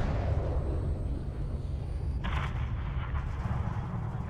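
A missile strikes and levels a hangar in Call of Duty MW3 (2023), a heavy, rumbling blast that swells partway through and rolls on loudly under continuous low battlefield noise.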